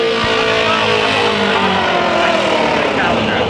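Mini stock race cars roar around Bakersfield Speedway, several engines droning and revving together at close to middle distance, loud and continuous, with a voice talking over the racket.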